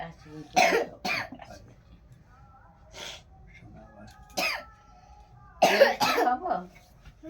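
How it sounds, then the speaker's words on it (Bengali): Several sharp, close coughs break out in separate bursts, two early and a pair later, during an indoor birthday gathering, with quiet voices murmuring between them. "কাশি"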